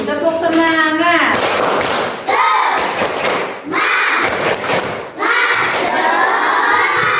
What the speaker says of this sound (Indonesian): Kalau semangat coba tepuk semangat dulu.